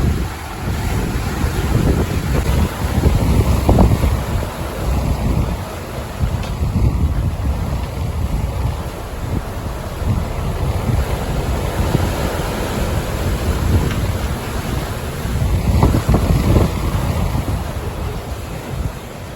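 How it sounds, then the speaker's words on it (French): Ocean swells wash around a sailboat on an Atlantic crossing from Tenerife to Martinique, a steady loud rush of surf and hull water, with heavy wind buffeting the microphone throughout. "on a quand même des bonnes houles et des bons creux qui nous permettent d'avancer"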